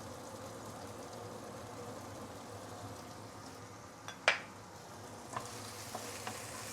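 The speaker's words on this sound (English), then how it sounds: "Let's saute this for a minute or two before we continue." Salted black beans, fermented soya beans, spring onion whites and chili sauté in hot oil, a quiet, steady sizzle with a sharp scrape or clink of the spatula midway and a few small taps after.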